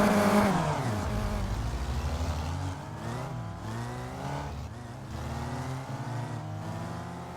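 A Skip Barber rear-wheel-drive race car in rFactor 2 roars hard at first, then settles into a steady engine drone with shifting pitch as it drives on, alone with no talk.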